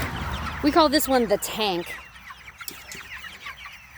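Chickens in a chicken tractor cluck and squawk close by in a farmyard, with several loud calls in quick succession. Softer clucks continue while someone talks.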